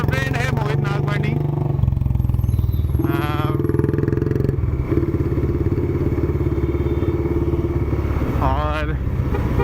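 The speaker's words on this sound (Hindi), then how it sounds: "और ये राइट साइड में चल रहा है पल्सर 200 पे बंदा, ये मेरा फ्रेंड है मोहित नागवानी।" Pulsar 200 motorcycle riding on a road alongside another bike, a steady close engine drone with rhythmic throb and wind buffeting while someone talks over it.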